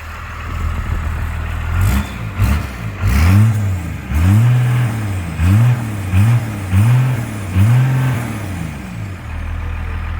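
A first-generation Cummins diesel truck engine with a 4-inch stainless exhaust idles, then revs sharply about eight times in quick succession, loud and close, before dropping back to a rumbling idle.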